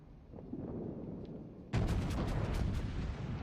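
Warship main guns in World of Warships fire a sudden loud booming salvo after a low rumbling lead-in, with several overlapping blasts followed by a lingering roar.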